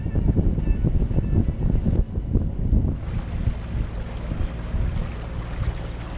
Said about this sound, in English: the wind really dropped, and now we're motoring